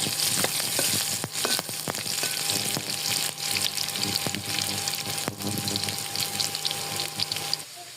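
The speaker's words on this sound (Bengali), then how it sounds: "শুকান মরিচ এগুলোকে এখন আমি লাল লাল করে ভেজে নিব" Garlic, onion and dried red chillies fry in hot oil, a loud continuous sizzle with crackling pops and scattered clicks, close and unbroken with no one speaking.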